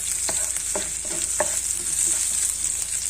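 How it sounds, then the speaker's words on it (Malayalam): Oil sizzles steadily in a pan as mustard seeds and onion fry and are stirred, with a few soft scraping strokes near the start, close and continuous. "നമ്മുടെ കടുകെല്ലാം പൊട്ടി ഉള്ളി വാടി കഴിഞ്ഞപ്പോൾ"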